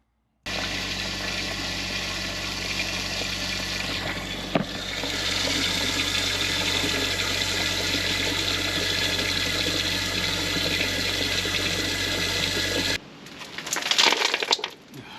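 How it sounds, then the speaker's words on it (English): Water flushed through a storm drain toward a septic tank gives a steady, loud rushing roar for about twelve seconds, then cuts to a rougher, splashier gurgle near the end. "flushing some water through this should pump anything down to the tank"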